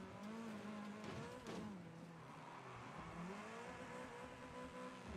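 A car engine revs and slides up and down in pitch as it changes gears, loud and continuous, with a sustained rising tone and brief tire noise along the way.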